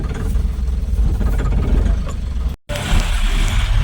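A vehicle engine runs steadily while being parked, giving a close, continuous low rumble with a brief cut partway through.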